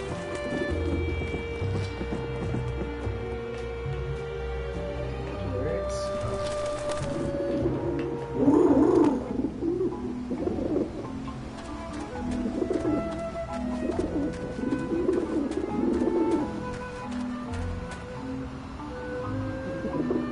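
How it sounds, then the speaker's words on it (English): Skeleton pigeons cooing in the video game Grim Fandango, soft repeated throaty coos in a loose rhythm over a steady ambient game background, moderately close and without talk. "Oh, the little skeleton pigeons."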